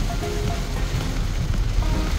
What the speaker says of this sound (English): it's a bit rainy.